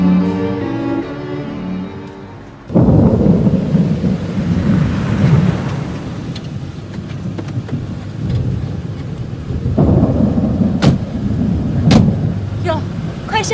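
Thunder rumbles loud and close, a deep rolling roar that swells and lingers, followed by steady rain with a second rumble rising near the end; no one speaks over it.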